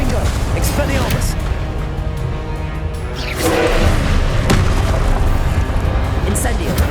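A Confringo blasting spell goes off in Hogwarts Legacy with deep booming blasts and a sustained rumble, loud and close, a heavier burst hitting midway, with a voice speaking over it.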